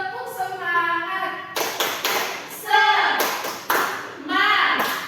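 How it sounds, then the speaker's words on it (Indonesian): A class of grade 2 children does a rhythmic spirit clap, with bursts of sharp hand claps alternating with chanted voices in a classroom. "3, mulai. Tepuk semangat."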